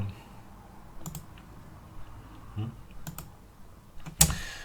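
Computer keyboard typing in OneNote, a few sparse, soft key clicks spread out, ending in one sharper, louder click.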